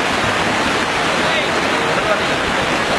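Cold snowmelt stream rushing down from the mountains near Naran Kaghan, a steady loud broadband roar of churning water with no pauses, close by and filling the whole scene.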